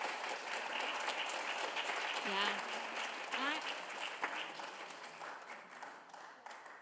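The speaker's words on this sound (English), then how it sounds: "Yes, everybody clap." An audience applauding at a book pre-launch event, a steady wash of clapping from a crowd in a room, fairly faint, with a few voices calling out over it.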